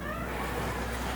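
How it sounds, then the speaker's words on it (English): A pet cat meows faintly in the background of a quiet indoor room, a short soft call with a low steady hum underneath. "Oh, my cat."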